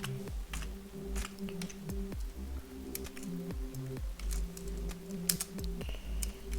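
Arduino program code is typed on a computer keyboard in quiet, irregular clusters of keystrokes over a faint background hum.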